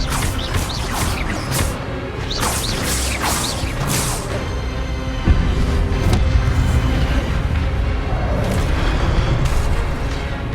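Spell-casting in the game Hogwarts Legacy, the Expelliarmus disarming spell among rapid magical blasts and whooshing impacts, loud and dense with booming hits over a continuous rumble of combat effects.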